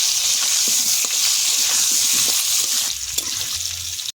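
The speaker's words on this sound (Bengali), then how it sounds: "আলুটা ভেজে নেব।" Potatoes frying in hot oil with salt and turmeric, a steady broad sizzle that stays loud and even throughout, with faint clinks near the end and no talking.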